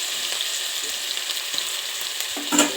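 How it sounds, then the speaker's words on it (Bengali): Chopped ginger, onion and garlic fry in hot mustard oil, giving a steady close sizzle with a few brief stirring clatters and a louder burst near the end. "তেল গরম হয়ে গেছে, এর মধ্যে প্রথমেই আদা পেঁয়াজ রসুনের কুচিটা আমি দিয়ে দিচ্ছি।"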